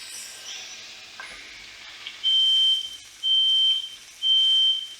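A smoke alarm sounds three loud, even beeps while a steak sears in a hot pan, with a soft sizzle underneath and no voices.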